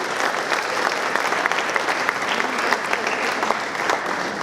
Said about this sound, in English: Folks, please a round of applause for these wonderful students